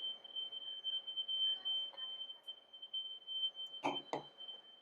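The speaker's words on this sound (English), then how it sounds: "there's like a fire alarm" A fire alarm sounds outdoors in Australia: a thin, steady high-pitched tone runs the whole time at moderate level, with two short louder bursts of other noise near the end.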